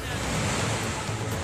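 Muddy floodwater rushing after a cloudburst in Kargil, Ladakh: a continuous, loud, broadband roar of churning water with no breaks.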